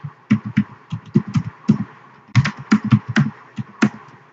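Typing on a computer keyboard while entering domain credentials on a Windows Server 2012 workstation, a close run of crisp irregular key taps in quick bursts with one short pause, alone and without talk.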